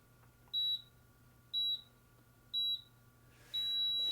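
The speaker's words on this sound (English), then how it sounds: "that is the end of our timer" A workout interval timer beeps at the end of a round. It gives three short, evenly spaced high beeps about a second apart, then a longer final tone, clear over a quiet room.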